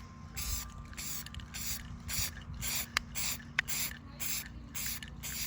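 A second coat is sprayed onto a slate piece in a series of short hissing bursts, close and fairly quiet, with brief pauses between each pass.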